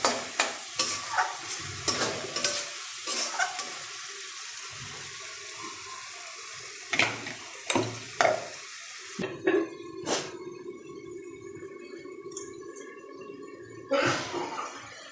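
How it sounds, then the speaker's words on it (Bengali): Spice paste with Kashmiri chilli is stir-fried in a wok for mutton curry, with repeated loud scraping stirs over a soft sizzle. Splashes of water join in midway, and there is no talk. "এবার ভালো করে কষাতে হবে মশলাটা"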